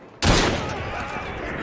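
A volley of gunfire from a group firing together in the video game Assassin's Creed Syndicate, a sudden loud blast that starts sharply and then rolls on as sustained, echoing crackle.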